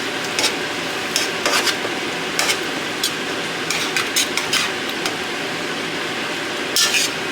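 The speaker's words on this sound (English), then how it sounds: "I'm just going to keep stirring it around until it's nice and brown" Venison frying in hot oil in a pan, a continuous sizzle broken by repeated scraping and clinking stirring strokes, close and fairly loud, with no talk.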